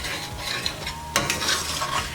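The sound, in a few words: flour cooking while scraping fond in a skillet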